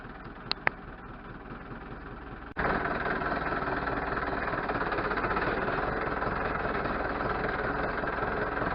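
A tractor engine idles steadily and close by, a loud continuous rumble that kicks in after a quieter start with a couple of brief clicks.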